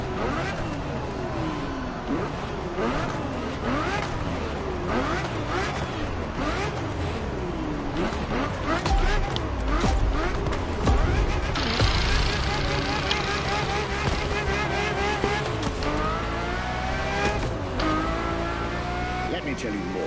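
Ferrari F50 engine in The Crew Motorfest racing game, revving up and down in repeated sweeps with shifting harmonics, loud and continuous with tire noise, under a voice talking throughout.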